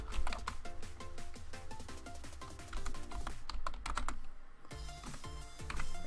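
Computer keyboard typed in a quick, irregular run of close clicks, keys tapped rapidly throughout a terminal command with no talking.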